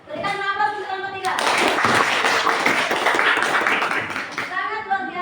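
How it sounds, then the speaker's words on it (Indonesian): A group claps for presenters in a classroom, a dense burst of hand-clapping lasting several seconds, loud and close, with a voice speaking just before and after. "Berikan aplaus untuk kelompok 3."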